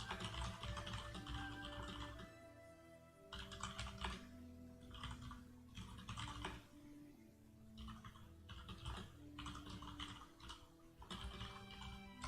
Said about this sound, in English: So I'm typing in internal channel.